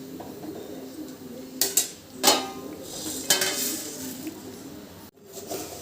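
Roasted lentils scraped from a pan onto a plate, a few distinct metallic clanks and scrapes close by over a faint background that includes birds cooing.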